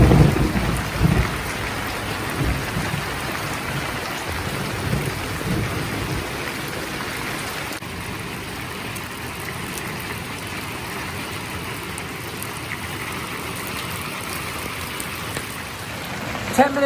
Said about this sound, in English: Oh, what a thunderstorm.